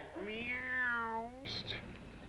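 A cat gives one drawn-out, rising-then-falling meow, clear and fairly close, followed by a short, higher chirp-like call, with no other sounds around it.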